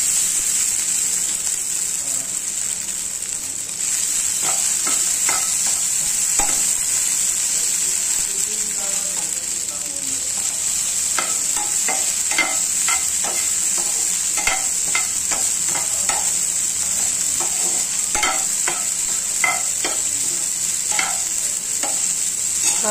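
Fried potatoes with sago pearls roast in a pan, giving a steady hiss and frequent spatula stirs and scrapes throughout.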